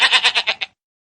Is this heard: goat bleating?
yes